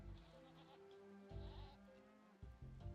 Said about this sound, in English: One of the goats, I think.